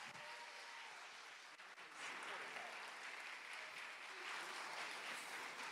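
Audience applause at a hypnosis stage show, a steady wash of clapping that swells louder partway through and keeps going for several seconds, with some voices mixed in among the crowd.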